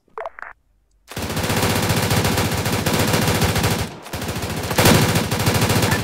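Gunfire in the video game Arma 3: a short burst of shots, a pause, then sustained loud automatic fire that breaks off briefly and resumes.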